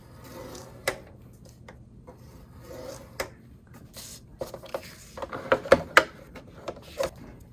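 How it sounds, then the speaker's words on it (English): Paper for a scrapbook album is scored with a scoring tool, heard as short, dry scraping strokes and light taps, sparse at first and growing busier toward the end, close and quiet with no talking. "we're going to rotate one time to the right and score at a 1/2 inch"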